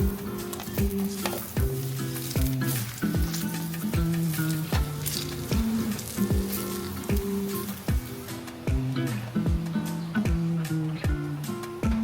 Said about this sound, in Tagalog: Prito na natin yung saging saka yung patatas.